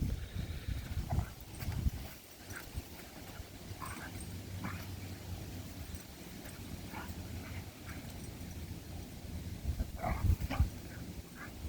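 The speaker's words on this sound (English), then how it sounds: "She's playing, but sometimes vocalizations do that. Like the other dog, he's warning her." Two dogs playing, giving short yips, whimpers and low grumbling vocalizations scattered over the stretch, mixed with scuffling and thumping movement at moderate distance.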